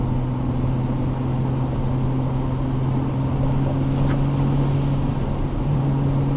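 A Toyota Supra drives along with a steady, unbroken engine and road drone heard from inside the car, holding at an even level throughout with no voices.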